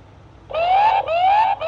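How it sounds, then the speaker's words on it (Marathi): A car's electronic siren wails in two long rising sweeps, loud and close, followed by the start of a third, with no talking. "सायरन वाजव सायरन"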